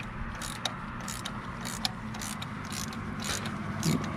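A ratchet wrench clicking as it loosens a spark plug on a Nissan Rogue, with quiet, close mechanical ratcheting and a few sharper ticks throughout.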